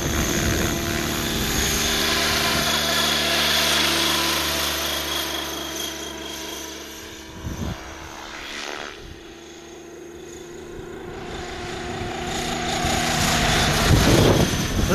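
A T-Rex 600 ESP 3G RC helicopter motor on 12S runs close and loud, a steady buzzing drone with a low rumble and whirring rotor tones that dips briefly midway, then swells back up.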